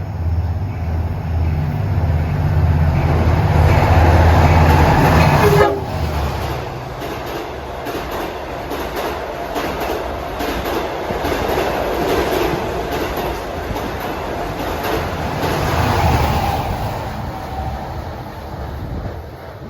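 Long Island Rail Road train 6021 on the Montauk branch thunders past close by, with a low droning blare at first, then rolling wheel clatter and rumble that swells and fades over nearly twenty seconds.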